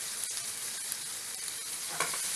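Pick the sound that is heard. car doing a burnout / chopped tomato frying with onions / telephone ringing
chopped tomato frying with onions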